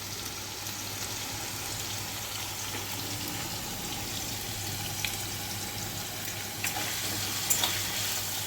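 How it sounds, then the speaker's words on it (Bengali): Potatoes frying in oil with turmeric and salt for a Bengali banana-flower and Gobindobhog rice dish, giving a steady low sizzle with a few faint clicks of utensils near the end. "তেলের মধ্যে এখন ভালো করে আলুগুলো ভেজে নিচ্ছি।"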